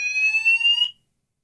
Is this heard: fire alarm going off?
yes